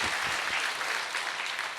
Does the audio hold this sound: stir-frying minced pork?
no